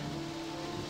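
Steady rain falls in a video game, an even continuous hiss with a faint low hum beneath, with no break or variation.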